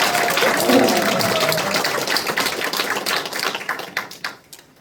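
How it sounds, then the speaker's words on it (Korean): An audience at a committee launch event claps to welcome a lawmaker, a dense burst of applause that gradually thins into scattered claps and fades out. "송재봉 의원님께 뜨거운 박수로 한번 환영의 박수를 부탁드립니다"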